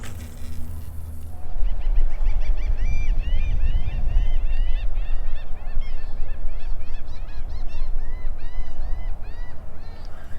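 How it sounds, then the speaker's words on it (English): Many repeated gull-like calls ring out over a steady rumbling, watery background, some near and some farther off, overlapping in a busy chorus. "I freaking love that seagull sound"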